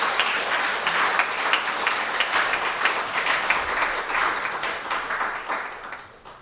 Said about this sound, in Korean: 다 함께 이 시간 아름다운 찬양을 준비해서 성가대에게 박수 한번 드립니다